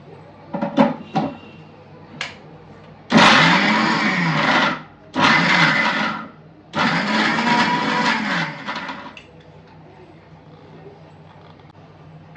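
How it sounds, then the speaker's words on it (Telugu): A kitchen mixer grinder grinds ginger, garlic and onion into a paste in loud bursts of whirring, three runs of roughly one to two seconds each with short pauses, preceded by a few light clicks and knocks. "అల్లం వెల్లుల్లి అండ్ ఆనియన్స్ ఇవి 3 కూడా మిక్సీ పట్టేసుకున్నాం కదా."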